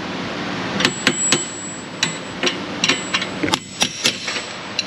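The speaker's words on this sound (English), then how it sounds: "we'll do the wrench trick. The wrench hammer." Sharp metallic strikes of a wrench used as a hammer on a bolt during axle work on a 2015 Cadillac SRX, about a dozen irregular blows, some in quick pairs, ringing close by with quiet pauses between.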